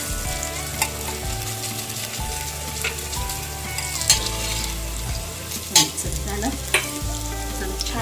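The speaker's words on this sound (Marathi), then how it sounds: "मिरची पण स्लो फ्लेमवरती बारीक करून घ्यायचे जे आपल्याला स्लो फ्लेमवरतीच परतायचे" Garlic and green chili sizzle gently in hot oil on a low flame, a steady close frying crackle broken by periodic scrapes and clinks of a spatula stirring the pan.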